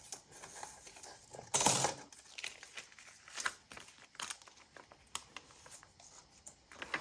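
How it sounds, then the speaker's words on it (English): Die cutting machine cutting a tag shape in a craft studio, giving a steady run of soft crinkling, clicking mechanical sound for several seconds with one louder burst near the start, close and fairly quiet. "So I'll go and take this to my die cutting machine."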